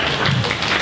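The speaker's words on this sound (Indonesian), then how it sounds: "Berikan tepuk tangan dulu dong buat jawabannya." Audience applause at an Indonesian talk show on building a portfolio, a short burst of dense, steady clapping close by with no talk over it.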